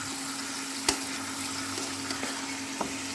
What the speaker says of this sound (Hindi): अब मैं इसमें डाल रही हूँ सिर्फ अदरक लहसुन का पेस्ट, जो इसके साथ ही थोड़ा तल लूँगी।